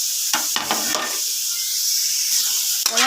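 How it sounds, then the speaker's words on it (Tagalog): Dried smoked galunggong fish (tinapa) sizzles steadily in a pan during sautéing, with a few louder stirring scrapes near the start and again at the end. "Tinisa ko muna ang ating tinapa na galunggong"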